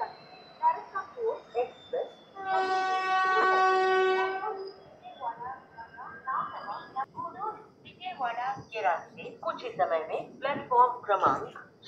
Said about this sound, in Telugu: మన ట్రైన్ అయితే స్టార్ట్ అయిపోయింది ఆన్ టైంకి 2:20కి ధర్మవరం నుంచి